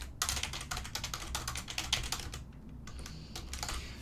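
Someone types on a computer keyboard in a quick, continuous run of close key clicks. The clicks pause briefly, then resume more lightly, with no talk.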